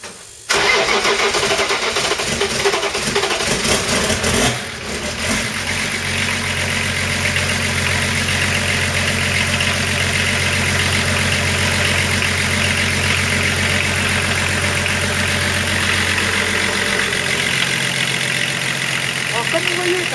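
A swapped six-cylinder diesel engine cranks over, catches loudly within a few seconds, then settles into a steady, close, rumbling idle that runs to the end without talk.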